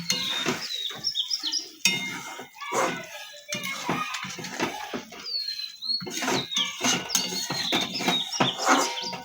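Pointed gourd curry (tel potol) being stirred in a pan after a pinch of garam masala, with scraping and clinking of a spoon against metal in irregular bursts, birds chirping faintly in the background.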